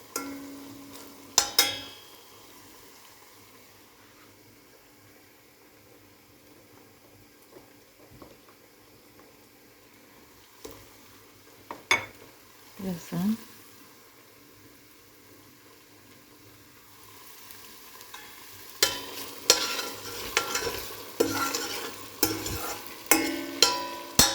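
A spoon stirs and scrapes through green lentil dish ingredients frying in a pan, soft sizzling underneath with intermittent clinks and scrapes, growing busier and louder toward the end.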